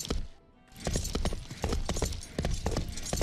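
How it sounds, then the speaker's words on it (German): Horse hooves clip-clop in a steady rhythm while riding along a path in the medieval game Life is Feudal, close and clear, with a brief quiet gap near the start. "Also ich reite hier mal entlang."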